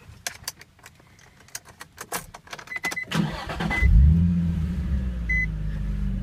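A car owned by a teenage driver is started after a run of keys jangling and clicking; the engine cranks, catches and settles into a loud, close idle with a rising revving note.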